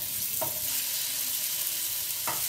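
Garlic and plum tomatoes fry in a pan over a gas flame, with a soft, constant sizzle and two brief stirring scrapes, one early and one late.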